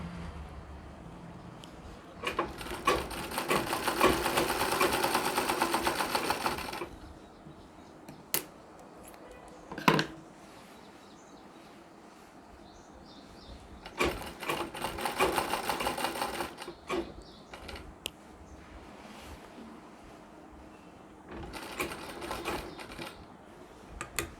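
A sewing machine runs in three separate bursts of steady stitching with quiet handling sounds between them, while chain trim is sewn onto a nauvari saree, the nine-yard Maharashtrian sari.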